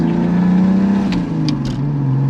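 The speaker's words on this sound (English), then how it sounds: "That gear shift is awesome." Volvo 940 fitted with a turbocharged BMW 2.5 engine pulls hard under acceleration, engine note steady and loud, with a brief dip and pitch change around a gear shift before the revs climb again.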